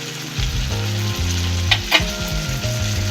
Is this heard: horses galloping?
no